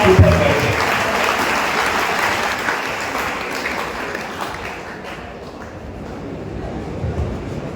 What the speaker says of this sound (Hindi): एक बार जोरदार तालियां दोनों हाथ ऊपर करके।